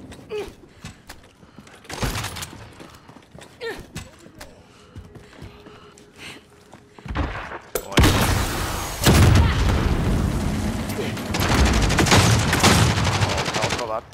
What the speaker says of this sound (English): Shooting at me, fool.